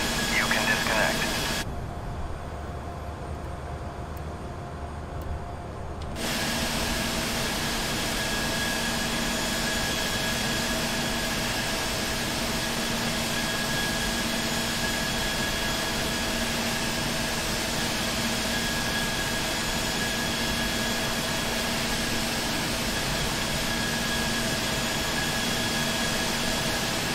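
An Embraer E190 airliner's jet engine spools up in a flight simulator, a steady broadband roar with a high whine that runs on without a break. A brief muffled stretch early on gives way to the full engine sound.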